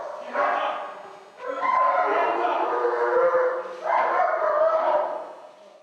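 Blade, a police dog, barks in loud repeated bursts with short gaps between them, close by during a burglary suspect arrest.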